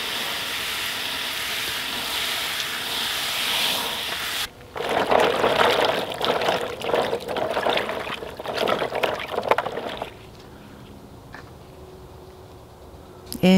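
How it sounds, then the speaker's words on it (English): Lemongrass stalks rinsed by hand in a bowl of water, with several seconds of close splashing and sloshing that rise suddenly, churn unevenly, then stop. "just place it into a bowl and give it a really good rinse and get rid of any soil that's on the lemongrass"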